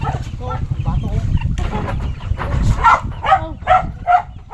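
Chickens cluck on a rural farm, a run of short bursty calls that grow clearer and louder toward the end, mixed with fowl noises and someone speaking over them at moments.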